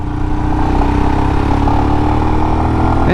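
Royal Enfield Himalayan motorcycle being ridden, its single engine droning steadily and loud with constant wind and road rumble, no voices, continuous for the whole stretch.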